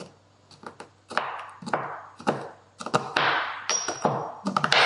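Hard dried herbs mashed and crushed in a kitchen, a series of sharp, irregular crunching strikes, close and fairly loud, each followed by a gritty grinding trail.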